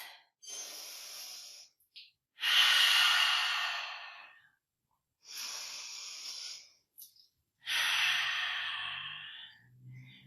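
Slow, deep breaths during a yoga pose: four long inhale-exhale cycles, close and clearly audible, separated by near-silent pauses.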